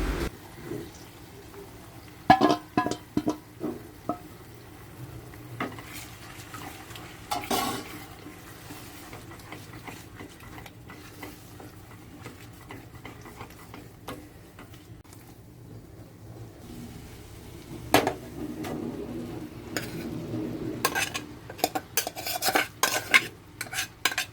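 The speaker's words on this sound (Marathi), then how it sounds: "आता या ग्रेव्हीमध्ये आपण अंडा घालून त्याला छानपैकी मिक्स करून घेऊया." An egg is stirred into gravy in a pan while making egg rice: a spoon scrapes and clinks against the pan in irregular bursts, fairly close, with quieter stretches between. No one speaks.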